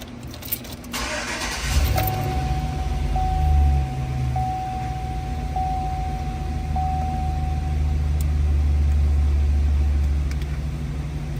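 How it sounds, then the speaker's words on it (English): A 2015–2018 GMC Sierra pickup's engine cranks and catches, then settles into a steady low idle rumble while a thin electronic tone beeps repeatedly for several seconds, close by with no talking. "Now we can turn on the car to test the unit."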